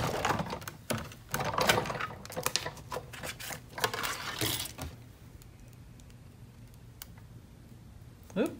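Paper run through a Sizzix die-cutting machine in a craft session, a close run of rapid clicking and ratcheting crank noises for about five seconds, then quiet room tone with a few faint clicks.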